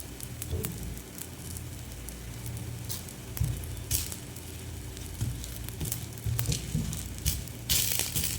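Bottle gourd dosa frying on a hot pan with oil drizzled over the top gives a crackling sizzle, marked by repeated louder pops and bursts over a low steady hiss.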